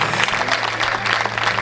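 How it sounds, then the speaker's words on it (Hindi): Audience applause at a Hindi comedy poetry gathering (hasya kavi sammelan), a dense, steady wash of clapping from a large crowd filling the whole moment without talk over it. "एक बार तालियां बजाइए"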